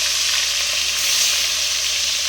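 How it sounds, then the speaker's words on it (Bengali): Pieces of katla fish fry in hot oil, giving a steady, loud, close sizzle and crackle that holds evenly throughout with no voices. "তেল গরম হয়ে গেছে, এবার কিন্তু আমি একটা একটা করে ভিতর দিয়ে দিচ্ছি মাছগুলো সব।"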